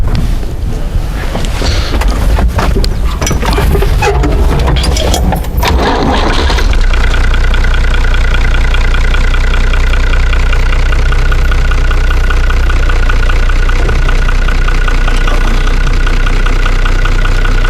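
A Hesston 980 tractor's key switch jangles and the starter cranks for several seconds, then the diesel engine catches and settles into a loud, steady idle drone.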